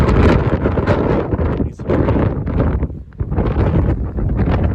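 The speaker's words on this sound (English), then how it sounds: "Windy as hell." Strong wind buffets the microphone on a hike through a Utah canyon, a loud continuous roar with gusting surges and brief lulls, no voices.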